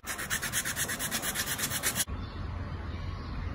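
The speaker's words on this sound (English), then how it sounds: "Take sandpaper and sand the tops to make them smooth and even" Popsicle sticks rubbed with 220 grit sandpaper, a rapid rhythmic rasping of close back-and-forth strokes for about two seconds, then it stops, leaving only a low background hum.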